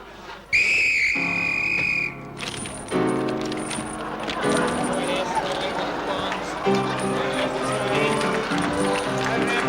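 A shrill referee-style whistle, blown to start a run in a comedy stage sketch, gives one loud sustained blast of about a second and a half. A dense, busy clatter of music and noise then follows.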